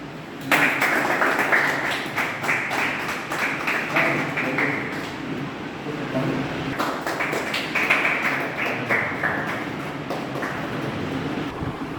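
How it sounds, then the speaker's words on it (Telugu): An audience at a hypnotism master's felicitation event in Bhimavaram breaks into steady applause, a dense close wash of many hands clapping that carries on for the whole stretch without pause. "క్లాప్స్"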